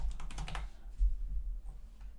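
Keys on a computer keyboard clatter in a quick burst of clicks at the start, then fall to a few faint, scattered taps, over a steady low hum while someone programs a compiler.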